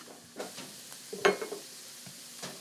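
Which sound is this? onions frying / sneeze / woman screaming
onions frying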